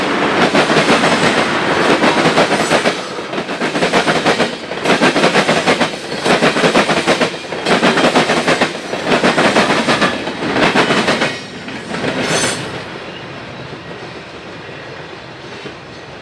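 GE Dash 8 locomotives on the Chicago, Fort Wayne and Eastern Railroad roll past loudly with a rhythmic clickety-clack of wheels over rail joints, then the train noise fades to a quieter rumble.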